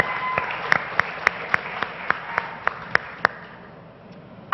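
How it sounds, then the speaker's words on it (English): An audience applauds a startup pitch at a tech conference. The clapping is moderate and somewhat sparse, with distinct sharp claps standing out, and it fades away toward the end. "Round of applause for Sumazi."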